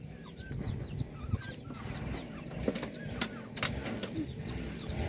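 Several chickens cluck close by amid birdsong and a few sharp clatters, a busy farmyard ambience.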